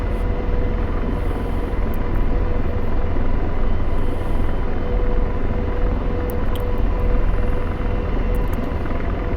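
An AH-64 Apache helicopter in the DCS flight simulator, its rotor and turbine drone steady and loud, a dense continuous hum filling the cockpit with no speech.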